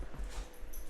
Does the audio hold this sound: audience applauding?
no